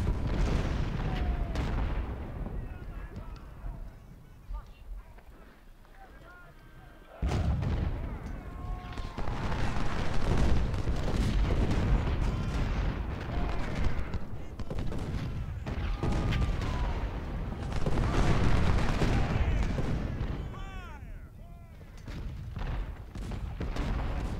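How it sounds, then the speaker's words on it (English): Continuous artillery bombardment in the Ultimate General: Civil War battle at First Bull Run, with repeated cannon booms and rattling musket fire rolling on and off, dipping briefly before resuming louder. "Mostly I'm just sitting back and bombarding them."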